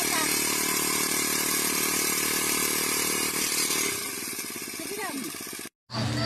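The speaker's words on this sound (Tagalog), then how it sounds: "At ayan na napaayos na nila ang Tata ang kanilang grass cutter kaya meron na kaming magagamit" A motorized grass cutter engine runs steadily and loudly at a constant drone, shifting to a lower, rougher note toward the end before cutting out abruptly, then briefly resuming.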